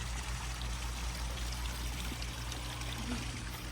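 Water pours steadily into a container while goats' drinking water is changed, a continuous close trickling stream with no speech.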